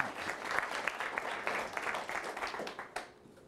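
Audience applause welcomes a state representative onto the stage at a technology talk, a steady patter of many hands clapping at moderate distance that tapers off near the end.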